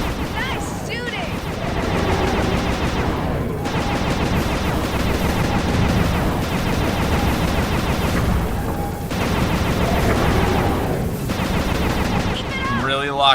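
Gunfire in a video game boss battle: dense, sustained rapid bursts of shots continue loudly almost without a break, with a few voice-like sounds mixed in.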